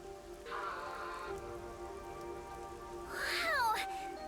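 Rain falls in Master Detective Archives: Rain Code, a constant soft patter beneath game sound effects, including a rising and falling tonal sweep and a meow-like chirp.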